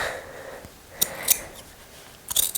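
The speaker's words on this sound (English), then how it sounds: "So I will use regular scissors. And I'm just going to trim" Regular scissors trim through thick layers of fabric while sewing a pant fly front, giving a few crisp snips and crunches, close and moderately loud, separated by quiet pauses.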